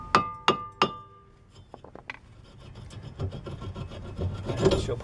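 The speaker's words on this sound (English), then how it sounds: "get a small hammer and tap it off" A small hammer strikes a rusted brake rotor on a 2006-11 Chevrolet HHR or Cobalt hub: three sharp, ringing metallic taps in quick succession, then fainter clinks and scraping.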